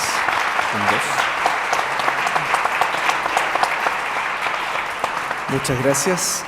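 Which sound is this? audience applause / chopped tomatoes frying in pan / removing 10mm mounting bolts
audience applause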